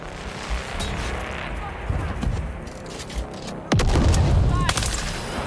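In the video game Dune: Awakening, a thrown grenade explodes with a sudden loud boom partway through, amid ongoing gunfire and shooting, while a player talks quietly.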